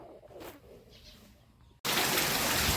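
Heavy rain in Rajkot that starts abruptly after a quiet stretch, becoming a loud, dense, steady hiss that fills the rest of the clip.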